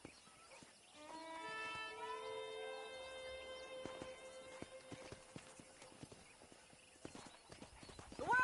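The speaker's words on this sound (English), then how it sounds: "there's a pack of wild horses nearby" Wild horses in the Red Dead Redemption game, a long whinny ringing out at mid distance, followed by a steady run of hoof clip-clops.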